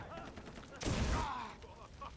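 A firework bursts in the Far Cry 3 video game, one loud crackling blast that swells and fades over about a second against quieter game ambience, with a voice faintly present.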